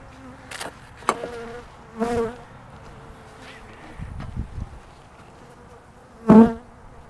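Honey bees buzz around an open hive during a swarm transfer outdoors, a soft continuous insect drone broken by a few louder close passes and brief knocks from handling the hive.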